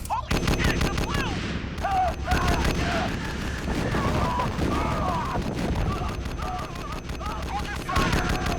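Rapid automatic gunfire in an anime battle scene, loud bursts of shots with booming impacts, while voices shout over the shooting.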